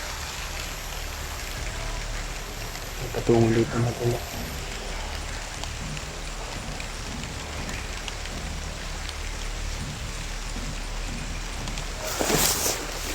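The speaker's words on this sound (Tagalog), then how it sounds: "Parang umuulan na mga tol." Rain falling outdoors: a steady, dense patter of drops on surfaces throughout, with someone talking over it and a few brief louder knocks and rustles.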